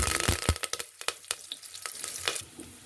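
Whole spices including marathi moggu, cloves, cinnamon, fennel, bay leaf and curry leaves crackle and sizzle in hot oil for village-style country chicken biryani, with sharp popping bursts over a steady close frying hiss and occasional stirring.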